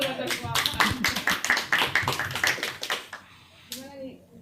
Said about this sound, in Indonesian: Tepuk tangan dong buat Balikpapan.